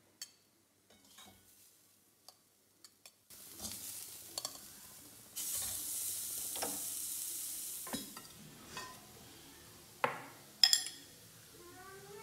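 Carrot poriyal with coconut sizzles in a pan after a few scattered clicks, then a steady frying hiss continues, broken by scraping stirs and clinks against the pan.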